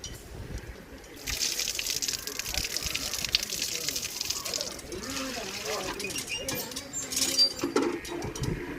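Water gushes in a steady, rushing stream outdoors in Jaffna, continuing for several seconds, with people talking over it.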